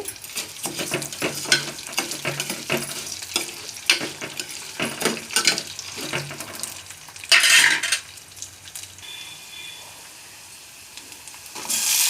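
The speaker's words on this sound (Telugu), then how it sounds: "శనగపప్పు కూడా వేగాలి కొంచెం మినప్పప్పు కూడా వేసానండి మినప్పప్పు కూడా వేగాలి" Chana dal and urad dal sizzle in hot oil in a pan while a spoon repeatedly scrapes and clinks against the metal, giving a busy rhythm of stirring over a steady frying hiss.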